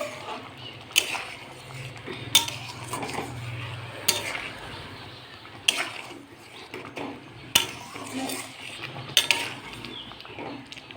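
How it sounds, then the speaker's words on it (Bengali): Utensil scraping and clinking against a pan as vegetable chorchori with a drizzle of raw mustard oil is stirred, sharp metallic knocks recurring every second or two over a low background hum. "তো এই যে এবার নেড়ে দেব।"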